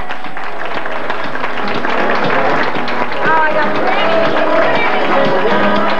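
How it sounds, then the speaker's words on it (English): Guests applaud at a christening party, scattered clapping mixed with crowd chatter and noise, fairly loud and continuous. "Nice round of applause, ladies and gentlemen."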